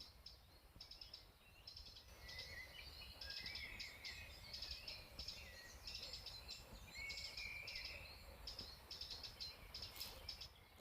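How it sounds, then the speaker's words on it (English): Many birds chirp and trill at once in a dawn chorus over a wooded valley thick with trees, a continuous layered twittering heard from a distance under a faint insect hum, with no voices. "And the birds are waking up."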